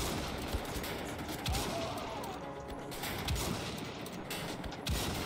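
Gunfire in Wolfenstein: a few heavy shots spaced out over a dense, noisy battle din, loud and close, with no talk in between.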